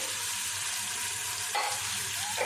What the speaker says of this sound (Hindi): 1 से 2 मिनट हम प्याज के साथ अदरक और लहसुन को भी फ्राई कर लेंगे